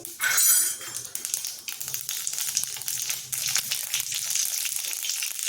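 Mustard seeds pop and crackle in about two spoons of hot oil in a wok, a dense run of sharp little clicks over a steady sizzle, close up.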